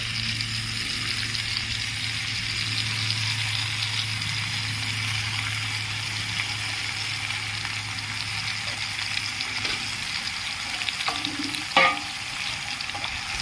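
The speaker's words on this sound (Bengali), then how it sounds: "এবার আমি গুড়টা দিয়ে দিচ্ছি" Jaggery goes into mango pickle sizzling in oil in a pan, a steady loud frying hiss with soft stirring scrapes and a low hum, with a sharper clatter near the end.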